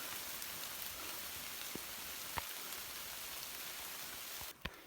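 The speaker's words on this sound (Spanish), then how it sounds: "está lloviendo una barbaridad" Heavy rain pours down on an abandoned village, a steady dense hiss of drops with a few sharper nearby splats, continuous and fairly faint overall, with no voices.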